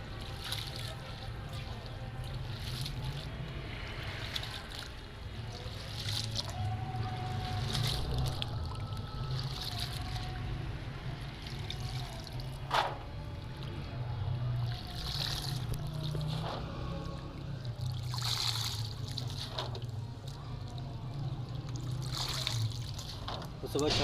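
Carrots for a large batch of gajar ka halwa are rubbed and swished by hand in water to remove soil, giving continuous close sloshing and trickling with intermittent splashes under a person's talk.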